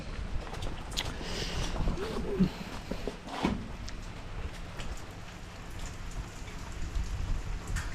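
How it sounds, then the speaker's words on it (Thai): Steady patter of rain striking the camera, with a dense, crackling hiss and occasional heavier drops, no talking. "ฝน ตกใส่กล้อง"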